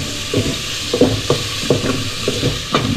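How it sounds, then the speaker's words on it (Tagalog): Garlic and onion sizzle steadily in a hot pan, with repeated scraping stirs every second or so. "igisa na po natin ating bawang sibuyas"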